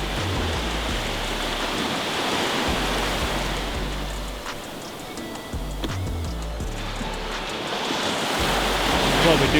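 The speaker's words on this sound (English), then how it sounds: "I just got smacked with a wave of salt water." Ocean waves crash on a shore, a loud roaring wash of surf and spray that swells and ebbs, with wind buffeting a nearby microphone and no clear talking.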